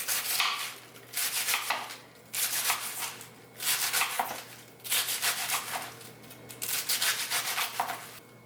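Kitchen knife slicing a quartered head of green cabbage thinly on a cutting board, a run of quick, rhythmic crisp cuts in repeated bursts with short pauses, close and fairly loud, no talking.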